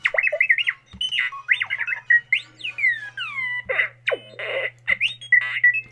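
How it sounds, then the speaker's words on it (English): A custom R-unit astromech droid chirps rapid electronic beeps, warbles and sliding whistles in the style of R2-D2, close and loud in quick bursts over a low steady hum. "So, by default, he has R2-D2 sounds."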